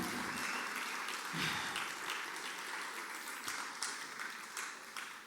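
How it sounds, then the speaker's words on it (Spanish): A church congregation at a Spanish-language service applauds in a continuous, fairly distant wash, with a few sharper claps standing out and slight swells and dips in volume. "Apláudele mejor que eso para que usted me convenza"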